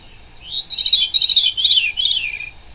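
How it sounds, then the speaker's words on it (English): A veery thrush sings a close, clear series of four or five descending, spiraling phrases in quick succession against a quiet background. "Isn't that a great song, the Veery?"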